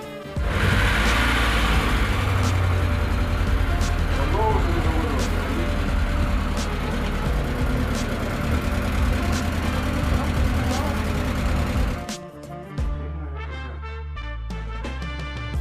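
A Mercedes 2.3 turbodiesel idles in a military vehicle, a steady close rumble with a faint ticking rhythm running for about twelve seconds before cutting off. Someone speaks over it throughout.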